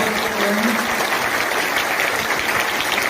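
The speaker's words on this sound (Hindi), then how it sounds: "जोरदार ताली आनी चाहिए जनाब।" Audience at a school Independence Day celebration in Srinagar applauds steadily, a dense, sustained clapping that fills the space throughout with only faint voices mixed in.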